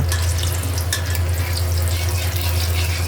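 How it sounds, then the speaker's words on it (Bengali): Cinnamon sticks and cardamom pods frying in hot ghee in a pan, a steady, close, continuous sizzle with faint stirring scrapes throughout and no talking. "ঘি গরম হলে কয়েক খণ্ড দারুচিনি অ্যাড করলাম এখন কিছু এলাচ অ্যাড করলাম তিরিশ সেকেন্ড নাড়াচাড়া করে ভেজে নিব"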